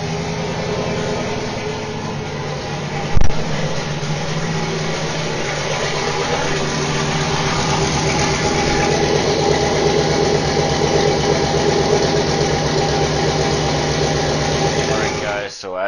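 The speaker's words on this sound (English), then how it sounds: "So now I'm gonna open up the garage door and fire up the truck and see how my fuel pressure is at idle." A pickup truck with a Walbro 525 fuel pump starts with a brief cranking burst, then settles into a steady, loud engine idle that drones evenly in a garage for the rest of the clip.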